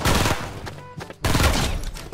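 FAMAS burst rifle in Fortnite Mobile, two loud close bursts of rapid shots separated by a brief pause.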